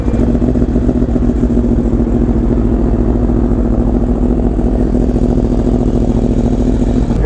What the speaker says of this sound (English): Listen to the Fireblade. Get my little cold start.